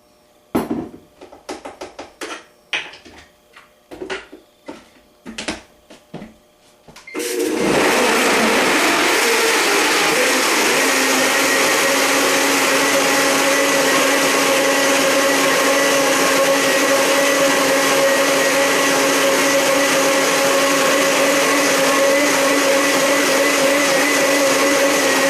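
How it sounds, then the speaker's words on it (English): A kitchen blender whirs through garlic cloves and olive oil for a gluten-free pizza crust, preceded by several seconds of clattering and tapping before the motor kicks in loud and steady, running continuously without talk. "And we're gonna blend that and then put the seasonings in."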